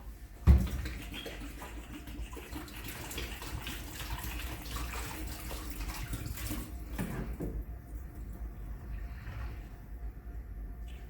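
Leftover water is dumped out of a fogger's tank, starting with a sharp splash and then pouring and gurgling steadily for several seconds before tapering off into near quiet.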